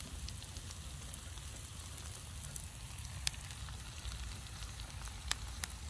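Salmon fillets laid on thyme sprigs in a Banks Fry Bake pan over a campfire, giving a steady, soft sizzle and crackle with occasional sharper pops, no voices.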